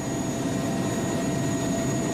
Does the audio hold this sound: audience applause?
no